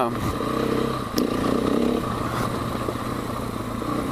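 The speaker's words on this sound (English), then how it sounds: "experimenting with the KTM 500 on some single track" A KTM 500 dual-sport motorcycle rides single-track trails in West Virginia, its engine a steady close drone with slight revving and some clatter from the terrain.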